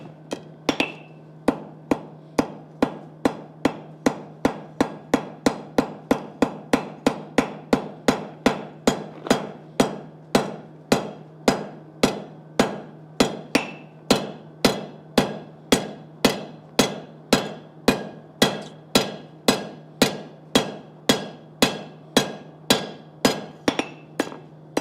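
A blacksmith hammers hot metal on an anvil, a long steady run of sharp ringing blows roughly two per second, close and loud over a constant low forge hum, without talk.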